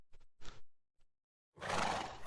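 A Minecraft horse whinnies in a short burst of game sounds, followed by a loud, breathy, noisy neigh that runs to the end.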